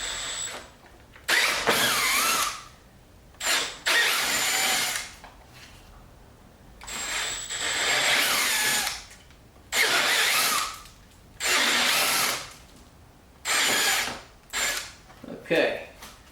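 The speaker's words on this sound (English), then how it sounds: "Okay, so now that I've got those drilled out" Power drill boring holes in a C8 Corvette body while fitting a Z06 Z07 conversion wing, repeated loud whirring bursts of one to two seconds separated by brief pauses.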